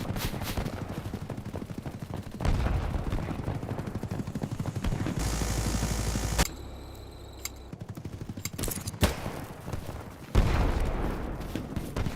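Pistol and other gunfire in a video game, with rapid repeated shots and louder bursts mixed into a dense, steady battle din.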